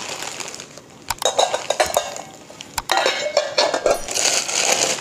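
A set of five steel bowls clinks and chinks as they are handled and set against one another, giving bright, sharp metallic taps in irregular bursts, close and fairly loud with no talking.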